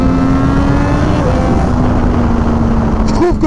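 Triumph Daytona 765 Moto2 three-cylinder motorcycle engine pulls hard under acceleration, a loud, steady, close-up engine drone with rising pitch that shifts near the end.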